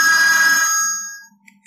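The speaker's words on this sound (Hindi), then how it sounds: "ये है रिंग टू, मैं साउंड आपको सुना दे रहा हूँ, तो काफी लाउड है फ्रेंड्स" A Lava A1 keypad phone plays its ringtone at full volume, a loud, bright electronic tone that holds and then cuts off, followed by faint small clicks.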